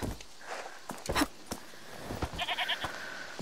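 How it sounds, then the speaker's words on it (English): A goat bleats several times in quick succession in the video game A Plague Tale Requiem, the short calls rising over footsteps and soft ambient game sound at moderate distance. "Is that the goat he talked about?"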